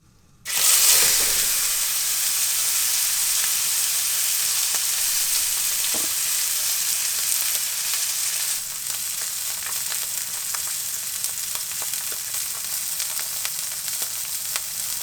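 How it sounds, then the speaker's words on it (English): A steak searing in a hot cast iron pan at a mountain campsite: a loud, steady sizzle begins abruptly as the meat hits the pan and continues, easing slightly later, with faint crackles throughout. "Cast iron is just about ready for the steak now."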